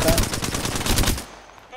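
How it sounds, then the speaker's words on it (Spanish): A rapid stream of gunfire in the shooter Apex Legends, loud and close with fast even repeats for about a second before cutting off into quiet. "Me disparan."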